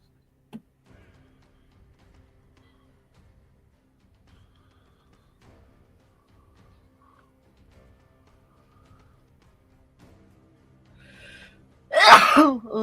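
A single sharp sneeze bursts out near the end, loud and close, after a long stretch of near silence with faint ticks.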